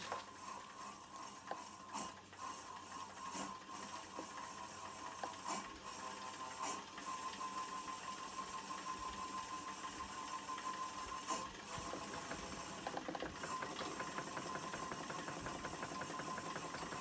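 A wood lathe spins up slowly with a green wood bowl blank mounted, producing a steady mechanical whir and hum with faint rhythmic clicking that grows slightly louder over time, continuous and fairly quiet.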